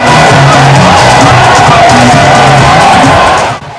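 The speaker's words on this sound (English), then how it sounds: "The crowd was agog when President Mahama finally got to the tow" A roadside crowd in a Ghanaian town cheers loudly and steadily as President Mahama's NDC campaign convoy arrives, a dense wall of voices with shouts rising above it, fading out abruptly at the end.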